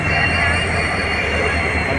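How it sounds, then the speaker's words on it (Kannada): A passenger train rolls into a station with a loud, steady rumble and high metallic wheel squeal, the noise continuous and close throughout. "ಟ್ರೈನ್ ಬಂತ್ರಿ"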